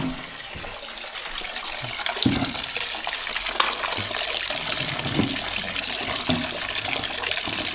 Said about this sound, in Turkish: Şu suyu da ufaktan açalım.